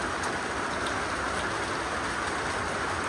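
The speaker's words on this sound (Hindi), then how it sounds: "बहुत ज़्यादा बारिश आ गई दोस्तों" Heavy rain falls in a steady, dense hiss on surfaces outdoors, constant and loud throughout with no voices.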